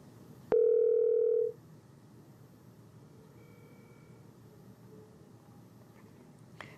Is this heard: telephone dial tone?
yes